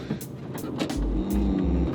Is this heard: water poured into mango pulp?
no